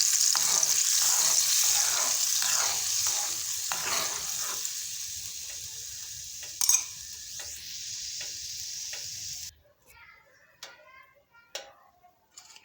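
Cumin seeds crackle in hot oil for a tempering, a loud, dense sizzle that gradually softens, then cuts off abruptly, leaving only a few quiet ticks and light clatter at the end.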